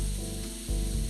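Olive oil sizzling hard in a pan of cooking vegetables, a steady bright hiss with a hum underneath that dips briefly and then surges back louder.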